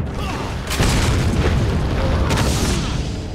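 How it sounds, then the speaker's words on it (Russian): A flash grenade goes off in the video game Resident Evil 4, a loud, sustained burst of roaring noise with a second surge toward the end, close and dominant. "Бросил световую гранату"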